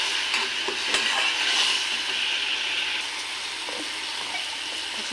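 Chili powder and spices frying in a pan with oil for a potato, eggplant and fish curry, a steady close sizzle with stirring scrapes and a few utensil clinks throughout.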